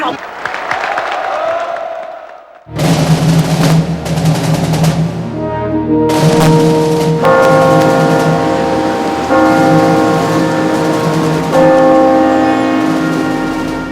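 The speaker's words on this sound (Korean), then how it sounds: "국민운동본부 지침에 따라 서울 시내에 종소리가 울려 퍼졌다." Loud, resonant bells ring out continuously across central Seoul at 6 p.m. during a 1987 pro-democracy protest, with layered overlapping tones over a broad wash of background noise from a busy outdoor city setting.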